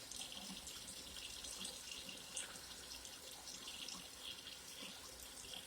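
Hot tap water pours steadily from a kitchen faucet into a cooking pot for beef stew, a continuous soft hissing splash at low volume, close by and alone.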